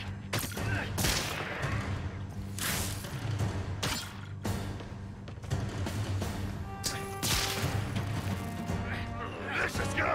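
Web bomb attack in the Spider-Man: The City That Never Sleeps video game, a dense stretch of bursts, crashes and whooshes over steady rumbling game noise, loud and continuous throughout.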